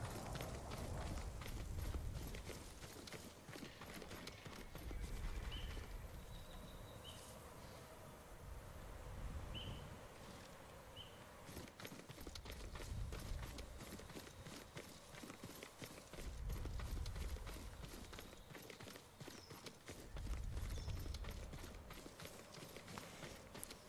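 A horse's hooves clip-clopping at a steady gallop in the video game Ghost of Tsushima, fading in and out in rhythmic waves, with faint background ambience and no talking.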